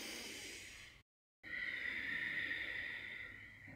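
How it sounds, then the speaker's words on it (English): Closed-mouth breathing in a guided full moon meditation circle: two soft, airy exhales like fogging a mirror, with a gentle whispery hiss in the throat, separated by a brief silent pause. "create a little bit of a gentle whisper. So it's going to feel like you're fogging a mirror in front of you with your mouth closed"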